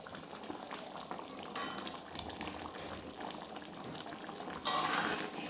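Egg curry with garam masala cooks quietly in a pan, giving a faint, soft bubbling and sizzle. A brief, louder scrape or splash comes near the end.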